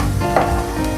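Onions and fennel seeds frying in hot oil for a Tamil-style prawn thokku, giving a loud, steady sizzle close up with a brief stir in the middle.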